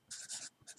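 A pen scratches out a short handwritten mark in a few quick, quiet strokes, close and with no talk over it.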